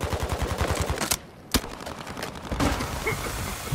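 Rapid automatic gunfire in the video game Call of Duty: Modern Warfare II, with loud bursts of rhythmic shots, a short pause, then a sharp single crack followed by more sustained firing.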